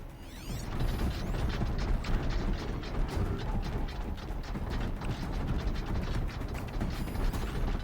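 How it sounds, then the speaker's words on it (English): Robotic machine enemies in the Horizon Zero Dawn video game, a busy mechanical clatter of ratcheting, grinding gears and clanks that runs steadily at moderate loudness, with occasional sharp metallic chirps and no speech. "Evil machine, go away."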